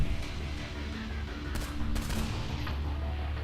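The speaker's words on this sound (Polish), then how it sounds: "Podobają mi się te fajerwerki." Explosions and gunfire crackle throughout a Saints Row IV gameplay scene, a dense rumbling barrage with sharp bursts over a constant loud game backdrop.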